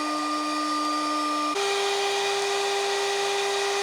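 A CNC spindle motor driven by an H100 VFD whines steadily at high speed, a continuous tonal hum that steps up sharply in pitch partway through as the commanded RPM rises, with no voices.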